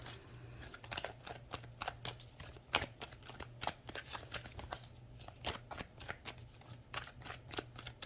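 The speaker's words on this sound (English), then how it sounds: "I can't cut the cards until they tell me to." Tarot cards being shuffled and cut, giving a run of crisp, papery riffles and flicks in quick irregular bursts, close and fairly quiet, alone without talk.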